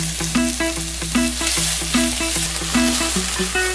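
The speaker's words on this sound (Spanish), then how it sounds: "Pica media cebolla finamente y sofríela en un poco de aceite hasta que se dore." Finely chopped onion sizzles in a little oil, a constant bright crackle sitting beneath a repeating melodic music track.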